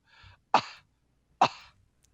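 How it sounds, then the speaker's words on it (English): Two sharp, harsh coughs from one person about a second apart, close and loud, after a brief faint throat sound, with silence around them. "You got a pretty nasty cough there."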